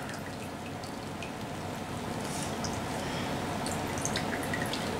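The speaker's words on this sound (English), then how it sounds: "dip it into the clear water" Goose feathers are dipped into a container of clear water while being cleaned, giving a steady wash of trickling water and scattered small drips that grow slightly louder midway, with no talking.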